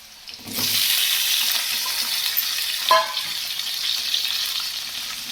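Tomatoes and green chillies are sautéed in a pan for tomato chutney made without water. A steady loud sizzle starts after a brief quiet moment, with a sharper scrape of stirring near the middle.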